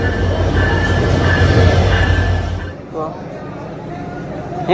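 A train pulls into a railway station with a loud, steady low rumble that cuts off partway through, followed by quieter station ambience and people talking nearby.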